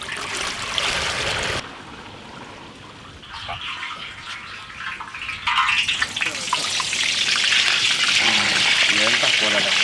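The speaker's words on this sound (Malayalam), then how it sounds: "ഓയിൽ ഒഴിച്ചു കൊടുക്കാം." Oil poured into a pan while making sweet banana bonda, a steady liquid stream that shifts in tone and grows fuller toward the end, with voices faintly underneath.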